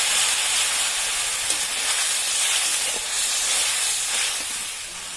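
A little water poured into frying spice paste for a raw mango and mola fish curry, giving a loud bright sizzle and hiss that fades slightly toward the end.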